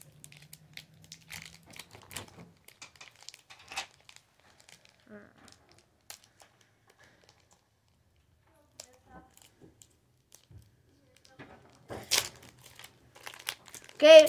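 A Pokemon card booster pack wrapper is crinkled and torn open in scattered bursts of crackly plastic rustling, close up, with quiet gaps between and a louder crinkle near the end.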